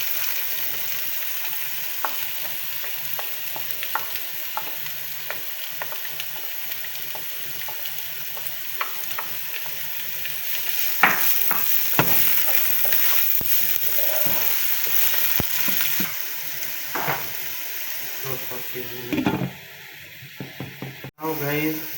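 Garlic and ginger fry with chicken pieces in a pan, a steady loud sizzle broken by clinks and scrapes of stirring, with a brief lull and bumps near the end and no talk.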